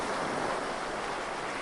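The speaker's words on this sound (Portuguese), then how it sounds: "Eu também consigo ouvir as bolsas de ar sendo liberadas e borbulhando perto desses hidrofones." Underwater air pockets released and bubbling near hydrophones buried in sand, heard as a steady, dense wash of fizzing noise without a break, fairly quiet and close.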